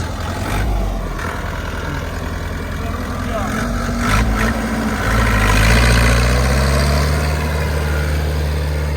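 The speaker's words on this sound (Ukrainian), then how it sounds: "Трактор тяне, мощі в тракторі вистачає повністю на такий плуг 3 по 25" A tractor engine pulling a 3-25 plough through a field makes a steady, heavy low drone that swells slightly midway, with someone talking over it.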